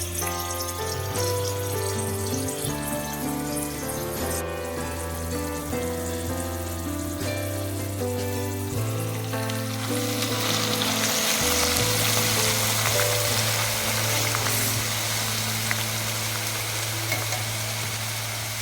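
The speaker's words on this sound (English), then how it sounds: "Now let's transfer the carrots into the hot ghee little by little." Grated carrots sizzle and fry in hot ghee in a non-stick pan, a steady crackling hiss that swells louder and denser partway through, with no one speaking.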